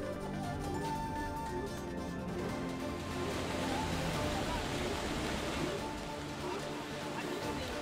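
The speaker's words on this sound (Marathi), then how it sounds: "हळदा परिसरात रुद्रेश्वर धबधबा त्यामुळे ओसंडून वाहायला लागलेला आहे" The Rudreshwar waterfall in the Halda area, overflowing after a sudden cloudburst-like downpour, roars as a steady, dense rush of water at a distance. It holds an even, continuous wash with no breaks.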